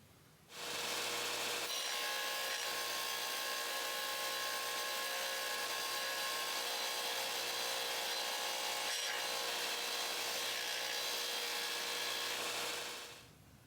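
Hand tools carving the nock end of a bamboo arrow shaft: a continuous close rasping and scraping that starts abruptly, holds steady for around twelve seconds, then stops.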